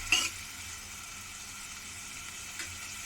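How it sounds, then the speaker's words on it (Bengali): Chopped onions in regular cooking oil sizzle steadily in a pan, a continuous hiss with a brief louder crackle at the start and a faint stir later, no talking. "পেঁয়াজটা একটু লাল লাল করে ভাজা হওয়া পর্যন্ত"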